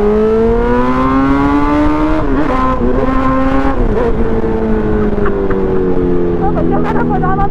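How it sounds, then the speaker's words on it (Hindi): A loud superbike engine revs hard, its pitch rising and falling in steady drones as it speeds along, with wind rush and someone talking faintly over it. "देखो गोविंद की फास्ट साउंड।"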